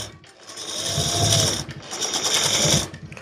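Sewing machine stitching tucks on a Jimmy Choo blouse, two loud, close bursts of fast whirring stitching separated by a brief pause, with no voice over them.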